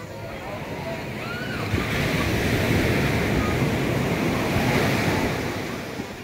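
Ocean surf rolls onto a beach in Lemery, Batangas, in a steady, loud wash, with wind buffeting the microphone throughout.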